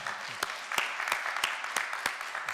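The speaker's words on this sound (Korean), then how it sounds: "우리 따뜻한 박수로 환영을 하겠습니다" A church congregation at a Sunday morning service claps in warm welcome, a dense patter of hands with sharper individual claps punctuating it.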